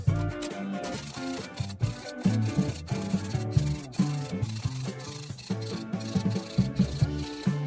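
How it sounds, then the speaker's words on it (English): A small hand file sharpens rusty saw teeth one at a time, producing close, rhythmic rasping strokes in quick repeated bursts with brief pauses between them, loud and alone without speech. "Now I'll use a small file to sharpen the saw teeth."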